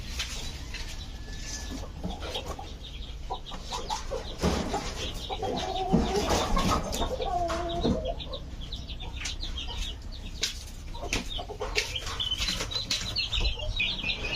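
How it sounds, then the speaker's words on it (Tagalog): Young chicks peeping as they are picked up from a styrofoam box during vaccination, high thin cheeps scattered over a busy background with some clucking nearby and no speech. "kunin natin yung ilan ng mga sisiw pa dito"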